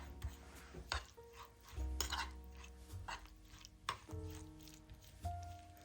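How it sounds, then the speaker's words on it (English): A spoon clinks and scrapes around a pan while biscuit filling with seasoned salt and brown sugar is stirred, giving quiet irregular taps and knocks. "we're gonna get all this mixed in first"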